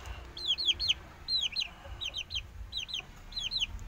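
Young fighting chickens of a Saigon and Pama cross give repeated high, rising chirping peeps in quick pairs and triplets, fairly clear over a low rumbling background.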